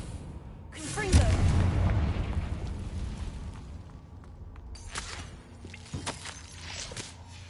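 A Confringo spell blast in a wizarding video game erupts as a loud, booming burst with a deep rumbling tail, followed by fainter scattered impacts and crackles.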